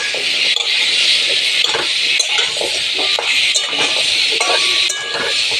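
Spices and turmeric fry in a pan with a steady sizzle, while a spoon scrapes and clinks against the metal again and again as the mixture is stirred.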